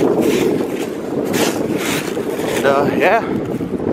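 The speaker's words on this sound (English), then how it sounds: "I'm hoping the wind cooperates a little bit better" Strong wind buffeting the microphone outdoors in Ballou Cemetery in Cumberland, Rhode Island, a loud continuous rumbling roar, with someone speaking briefly over it.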